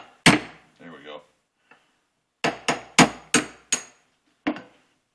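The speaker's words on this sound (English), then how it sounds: "now you will need to use a steel hammer to get that little jar" A steel hammer taps a rifle's rear sight with sharp metallic strikes, one early blow, then a quick series of five and a final single tap. Someone speaks briefly between the early strikes.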